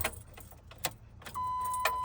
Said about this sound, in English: Once you're in the vehicle, you want to insert the key